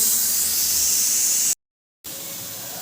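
A loud, steady hiss of steam escaping from a pressure cooker after cooking vegetables, bright and continuous, cut off briefly by a short silence before resuming at the same strength.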